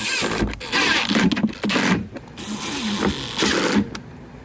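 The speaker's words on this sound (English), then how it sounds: "we're just gonna send some screws in here and call it a night" Screws driven in with a power driver while installing a cupholder in a manual-transmission 2024 Toyota Tacoma Z, heard as several short, close whirring bursts separated by brief pauses.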